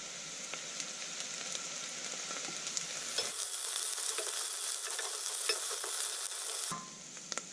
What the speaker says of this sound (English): Now I gave the spices a good fry